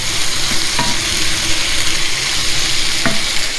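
Chicken pieces stir-fried for pad thai over a gas flame turned up to full, giving a loud, steady sizzle with continuous stirring and scraping throughout, plus a couple of sharp clinks of the utensil against the pan.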